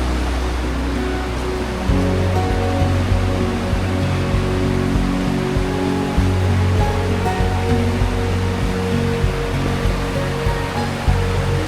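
A waterfall roars steadily and close by on a hiking trail in Germany, a dense continuous rush of falling water with no pauses and no voices.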